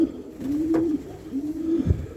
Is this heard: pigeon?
yes